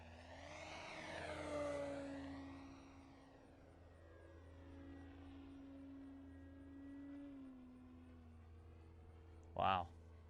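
A big T-28 Trojan RC model plane flying overhead, its engine droning with a rising and falling pitch as it passes at a distance, with a person talking over it.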